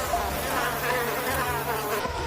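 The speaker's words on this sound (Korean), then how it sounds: "모기 소리가 아주 위협적으로 들리고 있는 이곳은 중국의 한 시골 마을입니다" A swarm of mosquitoes in a rural Chinese village makes a loud, continuous, high-pitched whine, close and steady throughout with no other sounds.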